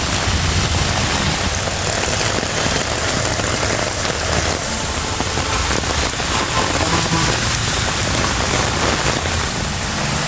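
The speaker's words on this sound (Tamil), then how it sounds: "காஞ்சிபுரம் மற்றும் சுற்றுவட்டார பகுதிகளில் இரவு நேரத்தில் பலத்த மழை." Heavy night-time rain pours steadily around Kanchipuram, a dense, constant hiss and patter with no let-up across the whole stretch.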